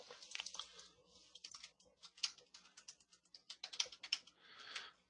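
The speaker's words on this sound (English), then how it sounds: "Pardon my typing." Typing on a computer keyboard, a quick irregular run of soft close-up key clicks, fairly faint and with no talking.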